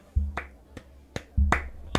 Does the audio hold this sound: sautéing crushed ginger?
no